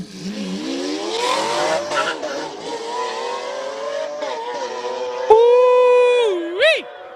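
A Lamborghini Aventador charges up the Speed Classic hill climb in Cape Town, its engine note climbing steadily in pitch, then snapping through a gear change into a loud, high wail that surges once more near the end.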